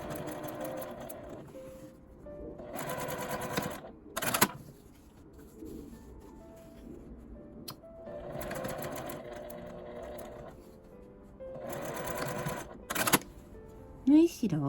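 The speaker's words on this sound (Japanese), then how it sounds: "線の上を縫います。" A sewing machine stitches along a drawn line on fabric in several short bursts of rapid mechanical whirring, close and clear, separated by quiet pauses with a few small clicks.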